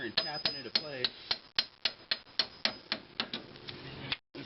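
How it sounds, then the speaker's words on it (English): A hammer taps a car alternator into place on a 1992 Acura Integra, a steady series of about fifteen sharp, close metallic knocks at an even rhythm. "just kind of get your hammer and tap it into place"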